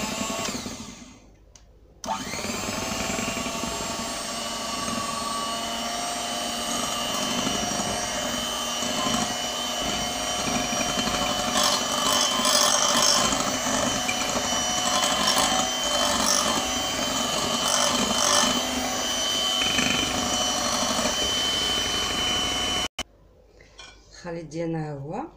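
Cocoa is mixed into cake batter with what sounds like an electric mixer, a continuous loud whirring drone running for about twenty seconds, starting and stopping abruptly, with faint rattling against the bowl.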